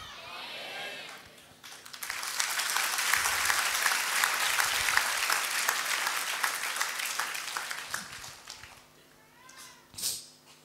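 A church congregation breaks into loud, dense applause for several seconds, then the clapping fades out, with a faint voice heard before and after.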